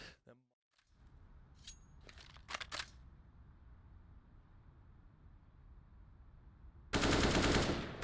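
Gunfire in a Rainbow Six Siege esports match: a few sharp, scattered shots early on, then a loud, dense burst of fire near the end over a faint background.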